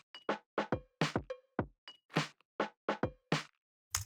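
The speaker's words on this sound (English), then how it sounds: "I automated this decapitator just to make it crunchier" Crunchy, lo-fi drum loop saturated with Decapitator distortion in a dark pop instrumental outro, a dry, punchy pattern of evenly spaced kick and snare hits with short decays and gaps, ending after a brief pause on one last hit.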